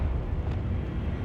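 Confringo fire blast spell cast in Hogwarts Legacy, a dense low rumbling whoosh of fiery energy held steady and loud for about a second, with no voices.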